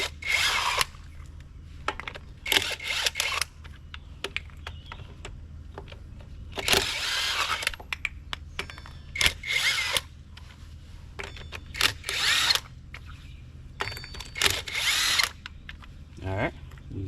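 Impact wrench or power drill loosening a car's wheel lug nuts counterclockwise during a flat-tire change, firing in several short loud bursts separated by pauses, with some talk between them.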